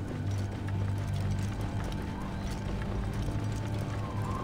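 Horse hooves clip-clop steadily throughout while riding a horse in the video game Assassin's Creed Origins, with a brief whinny, a continuous trotting rhythm of close, moderately loud footfalls.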